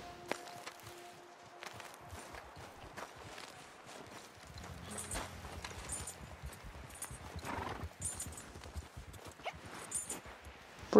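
Horses in Red Dead Redemption 2 on a group trail ride: hooves clip-clop steadily at a walk and trot, with a whinny partway through, moderately close over quiet game ambience.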